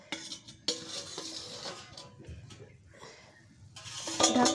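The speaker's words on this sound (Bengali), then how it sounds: "ঢাকনাটা খুলে আমি রাখলাম।" A metal lid lifts off a pot of soybean curry with clinks and scrapes of cookware, followed by soft bubbling and a brief rattle of utensils near the end.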